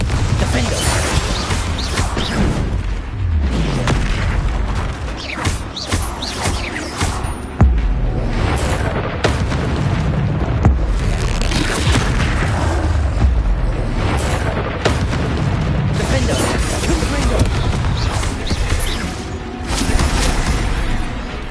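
Confringo fire spell explosions amid combat in Hogwarts Legacy, a dense run of loud crashing blasts and booms with mechanical clatter, repeating throughout without pause.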